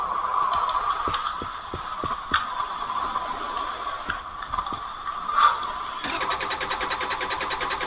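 A 5.6-litre V8 car engine starts in the video game Drive Beyond Horizons: a few sharp clicks and scrapes, then the engine catches at once into a steady, dense pulsing run, close and fairly loud.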